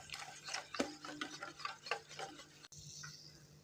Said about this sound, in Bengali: এবার সবগুলো চিনি দিয়ে ভালো করে মিশিয়ে নিচ্ছি।